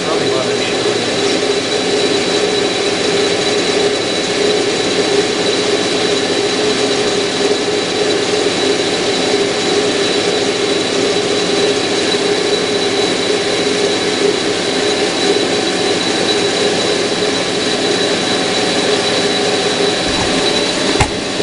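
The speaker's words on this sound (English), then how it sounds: "we're taking a really heavy cut off of this steel" A Clausing 5904 lathe taking a heavy cut about an eighth of an inch deep in steel makes a loud, continuous machine roar and whine. The sound holds steady and close throughout.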